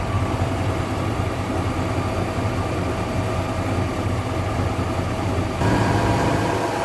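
A 1977 Chevy Silverado K10 engine idles steadily up close, a dense, even rumble with ticking lifter noise in the mix, briefly louder near the end.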